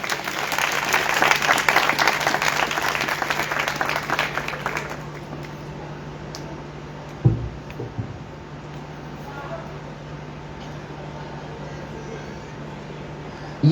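A congregation applauding at a church worship service in Faisalabad, a loud sustained burst of clapping for about five seconds that stops abruptly, leaving a quiet hum of the hall.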